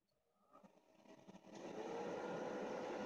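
An overheating computer fan whirs loudly, starting low and building into a steady, roaring rush that holds at full strength to the end.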